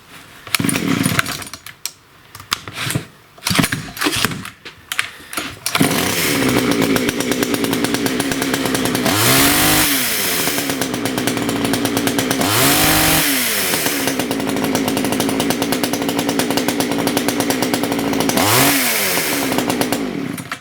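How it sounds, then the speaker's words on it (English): An old Pioneer chainsaw sputters and catches, then runs loud and close with a raspy engine whine, revving up and down several times. "I'm actually surprised that this saw runs."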